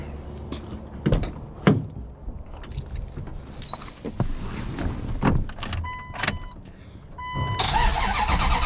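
Car after a quick repair: keys jangle and clicks sound up close, then the engine cranks and catches, settling into a steady running rumble near the end.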